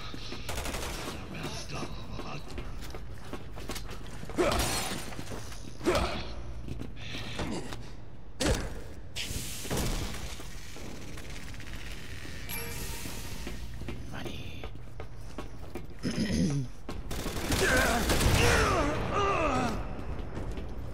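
Bursts of gunfire crackle through a noisy Resident Evil 6 game soundtrack, with sharp rapid shots scattered across the clip and heavier volleys near the end amid music and effects.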